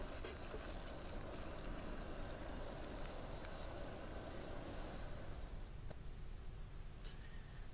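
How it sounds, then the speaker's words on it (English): A train rumbles past at night along the Columbia River, a low continuous roll of wheels on rails that thins out toward the end, with faint metallic squeaks. "So I waited for the train to come by."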